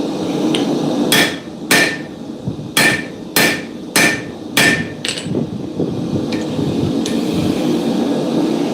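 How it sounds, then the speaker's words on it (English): A blacksmith planishes a hot domed rivet at lower heat: seven sharp, ringing hammer blows land close by in an uneven rhythm, with a couple of lighter taps after, over a steady background rumble. "Just using this lower heat to planish it a little bit."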